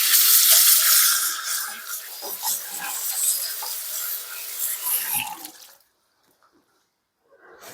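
Water runs from a tap as a cloth is rinsed out, a close splashing gush with shifting sloshes that stops abruptly near the end, leaving near silence.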